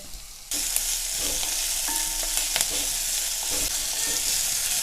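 Onions and soya chunk masala sautéing in a pan, a steady loud sizzle starting abruptly after a quiet moment, with spatula stirring and scraping throughout and no voices.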